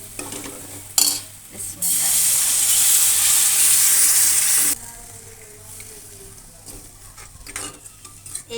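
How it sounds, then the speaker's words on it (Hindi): Water is poured into fried masala in a cooking pan, setting off a sudden loud hiss and sizzle that lasts a few seconds, followed by quieter bubbling and scraping of a utensil. "अब डाल देते हैं इसके अंदर पानी।"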